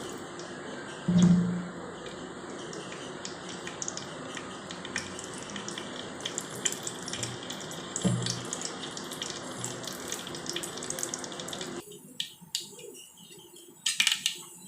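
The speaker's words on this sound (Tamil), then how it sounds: "கடுகு பொரிஞ்சாச்சு." Mustard seeds splutter in hot oil while aval kitchadi is cooked for a baby, giving a busy crackling sizzle with scattered sharp pops that drops away near the end.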